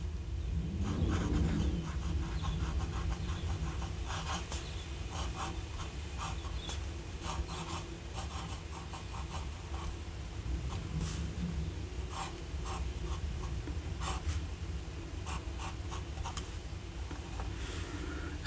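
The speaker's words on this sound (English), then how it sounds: "this would be the first time I'm using this pen with the fine nib." Lamy AL-star fountain pen, Petrol Edition, with a fine nib writing on paper: a steady, soft scratchy rubbing that continues for the whole stretch, close and quiet, with no talking.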